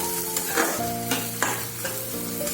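Red chilli and masala sautéing in a pan for roti churma, a steady frying sizzle with stirring scrapes running throughout, close and moderately loud with no voices.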